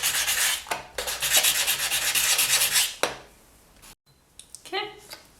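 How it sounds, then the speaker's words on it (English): Sandpaper scrapes across a polymer clay leaf bowl in quick, close, raspy rubbing strokes for about three seconds, followed by quieter handling noises and a few brief scratches. "Then just bring over some sandpaper and start to scrape it up."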